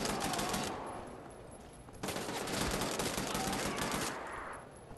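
Rapid gunfire and bullet impacts in a stealth video game, sustained automatic bursts with a sudden louder stretch midway, dense and fairly close, easing off toward the end.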